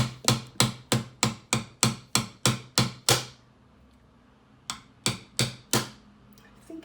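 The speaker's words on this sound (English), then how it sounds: "take my hammer here and just smack it lightly with a bit of pressure" A hammer taps a bottle repeatedly in a brisk, even rhythm of about ten hits, pauses briefly, then strikes four more times. Each blow rings with a sharp, hard attack.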